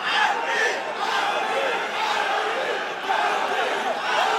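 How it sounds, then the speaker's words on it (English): Fight crowd at an MMA bout cheering loudly, a dense roar of voices and shouts rising and falling in waves, with commentary heard over it. "The crowd is going crazy."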